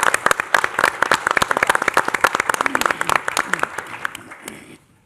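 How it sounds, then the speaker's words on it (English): Audience applause for a student presentation at a school board meeting: dense, fairly close clapping from a modest crowd that thins and fades out near the end. "Can we just give them a hand of applause?"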